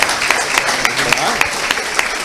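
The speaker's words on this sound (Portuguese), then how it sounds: "Vamos aplaudir o Senhor por essa bênção" A church congregation claps and applauds together in a dense, steady burst of hand claps, loud and close, filling the whole moment.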